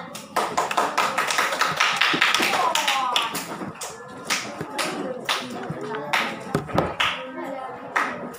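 A primary school class claps hands during a spelling test, bursts of close, uneven clapping from a small group of children, with a brief pause midway and scattered taps and chatter around it.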